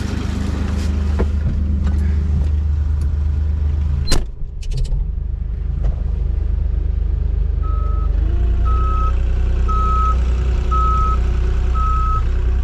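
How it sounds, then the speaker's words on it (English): An Avant 860i loader's reversing beeper sounds in regular evenly spaced beeps over a steady idling engine, with a brief clunk partway through, heard with the window open. "Loud beep with the window open."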